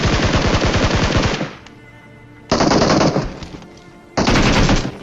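Automatic SCAR rifle fire in a video game: a loud, rapid burst opens, then two more bursts follow after short quiet gaps, each close and sharp.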